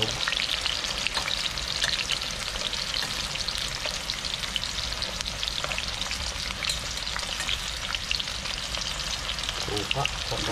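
Eggplant and tilapia fry in a pan with dense, continuous sizzling and crackling, loud and close, with occasional stirring clinks.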